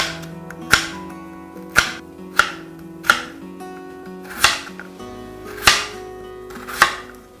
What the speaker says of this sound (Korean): 이제 감자를 가게 안 썰고 이렇게 길쭉하게 썰 거예요.